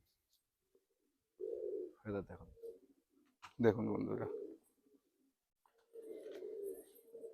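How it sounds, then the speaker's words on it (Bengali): Dum pigeons for sale give a few short, low cooing bursts, near and fairly soft, between stretches of someone talking. "একদম বন্ধ দুমের পায়রা আছে হ্যাঁ"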